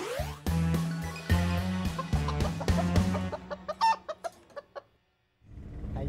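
Chickens behind a house cluck and cackle loudly in a rapid, rhythmic series that thins into scattered calls, then falls briefly silent before resuming.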